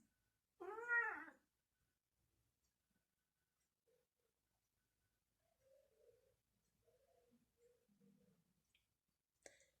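A house cat gives one loud, close meow near the start, followed by quiet stretches and a few faint, soft sounds in a still room.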